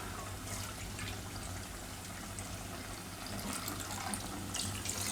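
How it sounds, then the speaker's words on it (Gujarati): Water pours steadily into rice, green chickpeas and potatoes in a pressure cooker, a continuous close splashing rush lasting a few seconds with no talk. "આપણે ટોટલ 2 વાટકા પાણી નાખ્યું."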